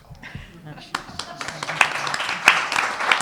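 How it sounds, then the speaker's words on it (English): Scattered claps from an audience at a panel discussion start sparse and grow into moderate applause, with talk and murmuring underneath throughout. "you should give another round of applause to Nick."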